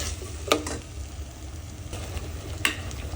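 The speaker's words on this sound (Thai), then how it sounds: "น้ำตาลน้ำตาลจ้าครับบัวใส่เกลือครับ ผัดให้หอมครับ" Sugar and salt are stir-fried in a pan for Japanese curry sauce, making a steady, soft sizzling hiss with two sharp spatula clicks against the pan.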